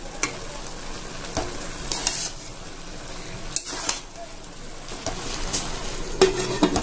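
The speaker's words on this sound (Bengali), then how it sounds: "ভালো করে নেড়ে চেড়ে দিয়ে দেব বেটে রাখা মশলা" Ground paste of ginger, cumin and onion stirred in a pan for a prawn dish, with a low sizzle under repeated metal scrapes and clinks of the spoon against the pan.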